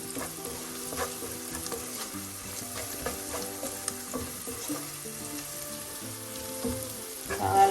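Onions with salt sautéing in a pan for a tomato curry, a steady close sizzle and frying crackle with scraping stir strokes, rising slightly louder at the end.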